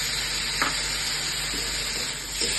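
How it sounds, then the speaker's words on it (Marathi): Onion and chopped tomato sautéing in a pan for matar paneer, a steady close sizzle with a couple of brief stirring scrapes and no talk. "आता ह्याच्यामध्येच आपल्याला हा चिरलेला टोमॅटो पण टाकून परतून घ्यायचा आहे"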